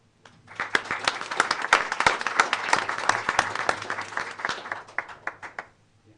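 An audience at a school board of education meeting applauds a student's beginner electrical wiring award, with dense clapping that swells quickly, holds for several seconds and thins out into a few scattered final claps.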